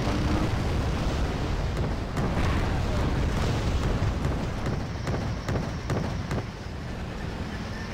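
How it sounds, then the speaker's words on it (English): Continuous rumbling booms and crackling blasts of explosions in the war game Wargame: AirLand Battle roll together in a dense, loud wash with a few sharper pops. "because of all those explosions flying out"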